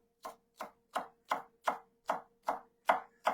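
A knife chops through a scallion on a board in nine even, crisp strokes, close and steady, with no one talking.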